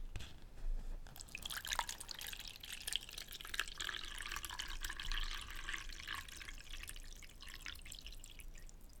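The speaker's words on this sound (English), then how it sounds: "let's go ahead and pour our warm water" Warm water pours into a bowl at close range, a soft trickling and splashing stream with dripping, quiet and intimate, without talking.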